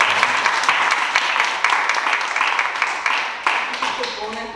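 A crowd applauding steadily, dense clapping filling the whole stretch at fairly close range, with a few louder claps standing out near the end.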